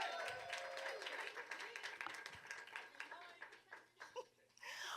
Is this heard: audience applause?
yes